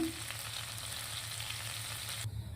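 Mustard seeds, cumin and asafoetida sizzle steadily in a spoon of hot homemade butter, a close, continuous frying hiss with faint crackles and no talk.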